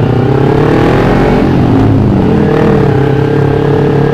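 Carbureted Kawasaki Ninja 250 engine revving steadily, loud and close, with a rising and falling whine and no talk over it.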